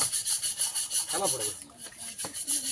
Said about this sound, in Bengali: ওই ঘষে ঘষে তোলা হচ্ছে পুরনো ইট তো